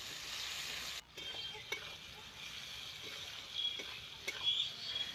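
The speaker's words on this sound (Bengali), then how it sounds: "এবার নুন হলুদ দিয়ে বেগুনটাকে কিছুক্ষণ আমি ভাজা ভাজা করে নিচ্ছি।" Eggplant frying with salt and turmeric in a pan, a steady soft sizzle running throughout with a few faint clicks of stirring, no voices.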